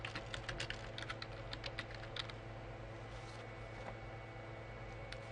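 Quick, irregular clicking of computer keyboard keys as a message is typed, close and fairly faint over a steady low electrical hum, with brief pauses between bursts of keystrokes.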